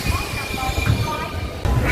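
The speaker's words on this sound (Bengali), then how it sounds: "সামনে একটা এক্সপ্রেস ট্রেন আসছে" A Kolkata local train runs near Dum Dum junction as an express approaches, a steady rail rumble with a thin whine on top, while a voice talks over it.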